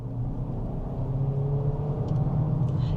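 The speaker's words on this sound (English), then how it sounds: "You can of course also put it in sport mode and boot it" Audi Q3 SUV pulling hard in sport mode, a steady engine drone with a rising tone building under continuous road and tyre rumble, heard from inside the cabin.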